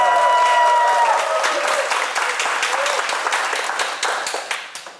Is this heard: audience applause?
yes